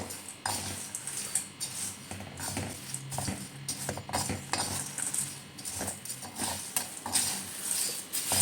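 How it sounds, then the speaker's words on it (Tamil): Curry leaves dry-roast in a pan until crisp for a readymix vada curry powder, giving a steady run of scraping, stirring clatter with faint crackle throughout, close and fairly loud. "இப்போ இந்த கருவேப்பிலை இலைகள் வந்து நல்லா முற முறப்பாக வரணுங்க அந்த அளவுக்கு வறுத்துடணும்"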